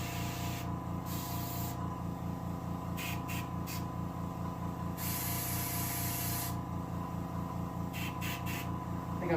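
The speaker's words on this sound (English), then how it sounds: "I think I busted the diaphragm on my airbrush, so I'll be doing this a lot." An airbrush with a busted diaphragm sprays dark brown paint onto a deer head mount in repeated hissing bursts of varying length over a steady compressor hum, heard close and faint.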